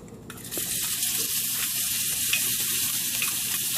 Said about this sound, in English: And then we're going to add our bacon